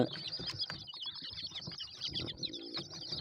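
Small chicks peep in shrill high cheeps close by, with some wing flapping and rustling around them and no talk.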